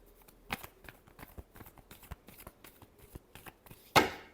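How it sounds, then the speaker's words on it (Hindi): Tarot reading cards being shuffled by hand, a quiet run of soft papery riffles and taps in an uneven rhythm, ending with a sharper slap as the deck settles, no talk. "Last shuffle."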